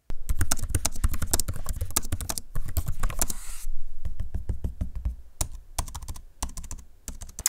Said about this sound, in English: Here's a quick audio sample of me using the keyboard and trackpad so you can hear how it sounds